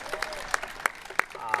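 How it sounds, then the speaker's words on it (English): Applause for a senator's representative at a rally in support of the people of Tigray, heard as a few sharp, separate claps standing out over a low crowd murmur. "So please give applause for them as well."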